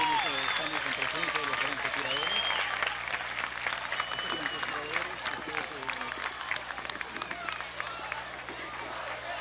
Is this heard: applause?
yes